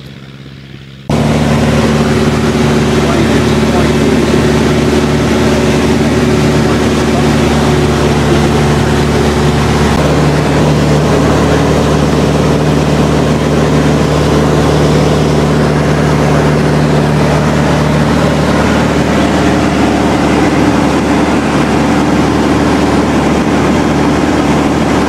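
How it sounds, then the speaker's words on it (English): Light aircraft taking off down the runway at Hardwick, a loud steady engine drone with strong low harmonics that swells after a brief quiet start and holds close and continuous throughout. "Now we're moving down the runway and we're about to take off."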